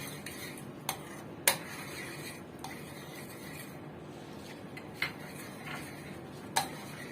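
Caramel sauce made without cream being stirred in a pan with ghee: a few sharp utensil clinks against the pan, spaced irregularly over a faint, steady background hiss.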